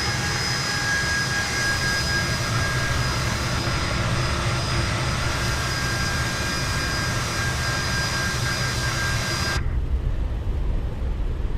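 Fokker F28 jet rolling out after landing in Microsoft Flight Simulator, a steady, loud, close engine roar with a high whine that cuts off abruptly near the end, leaving near silence; no talking.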